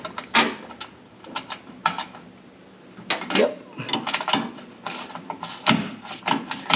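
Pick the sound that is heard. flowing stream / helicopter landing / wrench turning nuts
wrench turning nuts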